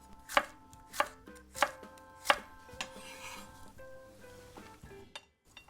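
A knife chops a green bell pepper on a cutting board, giving four sharp, evenly spaced thuds up close, then a few softer taps and light clinks before it falls quiet.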